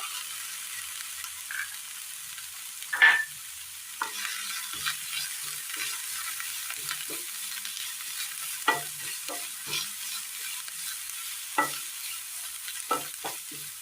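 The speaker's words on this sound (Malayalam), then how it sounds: "ഒന്ന് വാട്ടിയെടുക്കാം" Chopped onion and green chillies sauté in a pan for a jackfruit seed curry, a steady soft sizzle under scattered scraping stirs of a spoon, close and moderately quiet, with no talking.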